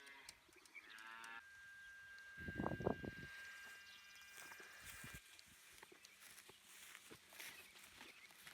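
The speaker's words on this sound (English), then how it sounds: "it was always time to let the cows out of the barn for the first time onto their pasture" Cows let out of a barn onto pasture for the first time, one low, drawn-out moo close by with fainter farm sounds and hoof steps around it in a quiet setting.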